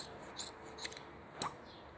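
Scissors snipping through ribbon while shaping a bow, three short quiet cuts spaced across a couple of seconds in a calm indoor setting.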